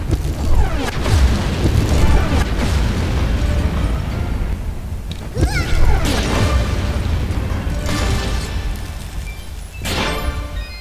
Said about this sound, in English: I made him explode.